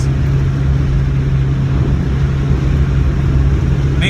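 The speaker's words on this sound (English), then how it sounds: "Major downshift right here." A car engine downshifts while slowing down, a steady close drone of engine and road noise with no one speaking.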